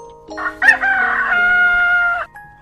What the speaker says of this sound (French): Le coq se mit à crier.